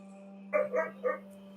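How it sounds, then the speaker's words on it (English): A dog barks three times in quick succession, close but fairly soft, over a steady low hum. "The dog barking."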